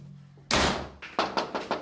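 A house owner slams a door shut, a sudden loud thud followed by several sharper knocking impacts in quick succession, close by.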